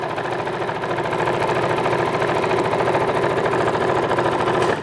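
A sewing machine runs steadily, stitching through fairly firm fabric with a fast, even mechanical chatter that holds at a close, loud level for several seconds before stopping abruptly.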